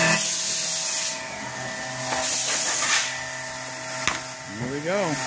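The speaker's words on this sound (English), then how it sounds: "This is the vacuum pump back here." The vacuum pump of a Hendricks 4' x 8' CNC router runs with a constant droning hum and a broad airy hiss that shifts in intensity, with a few brief knocks.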